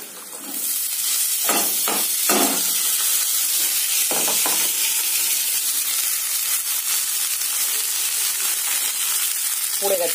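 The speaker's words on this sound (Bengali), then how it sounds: "পেঁয়াজ ভাজতে ভাজতে উচ্ছে আর শিমটা দিয়ে দিলাম" Bitter gourd and beans hit hot oil with frying onion, a sharp burst of sizzling and a few stirring scrapes, then a steady loud hiss settling over the pan, no talking.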